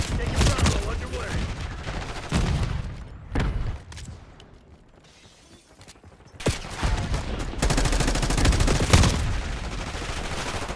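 Rapid video-game gunfire in a military shooter, loud bursts of shots and booms filling most of the stretch with a brief quieter lull in the middle before heavy firing resumes.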